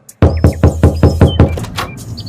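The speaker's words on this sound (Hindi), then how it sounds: "दोबारा दरवाजा खटखटाता हूँ।" A run of about eight firm knocks on a wooden door, close and loud in an even, quick rhythm that slows toward the end, with no talking.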